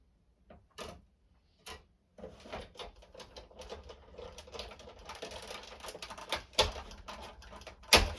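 A hand-cranked die-cutting machine running a card panel through, a few isolated clicks followed by a continuous close ticking and clattering rumble with occasional louder knocks.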